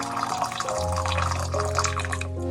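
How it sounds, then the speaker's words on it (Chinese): Boiling water, 300 grams, poured onto brown sugar in a small bowl, a close continuous splashing pour whose pitch settles into a steady hum as the bowl fills. "小碗里加入30克红糖，再倒入300克开水。"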